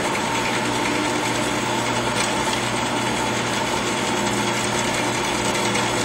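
Steady mechanical whir and light ratcheting from a JET bandsaw as its blade is slowly lowered toward steel stock, with the feed speed set by a needle valve; continuous and fairly loud, with no talking.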